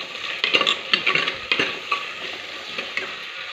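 Green chillies, onion and curry leaves frying in a pan for pesara pappu, with a hissing sizzle and a few close utensil scrapes and clinks, fading slightly by the end.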